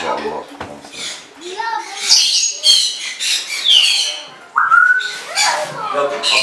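African grey parrots at a breeding farm give loud, close squawks and whistles, overlapping with people talking.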